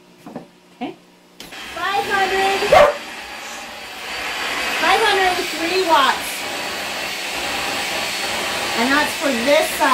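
A vacuum cleaner plugged into a BLUETTI AC200P power station whines on after a click, loud and steady, while dogs bark and yip repeatedly over it and a person speaks briefly.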